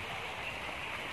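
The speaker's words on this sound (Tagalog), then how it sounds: "ganda ng waterfall" A waterfall in a park, a steady, soft rushing of falling water heard at a distance as a constant hiss for just over a second.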